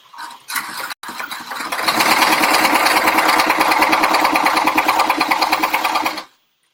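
An embroidery machine stitching a penguin design runs loud and close with a fast, even mechanical rattle, starting after a brief click and a short burst, then holding steady for several seconds before stopping abruptly.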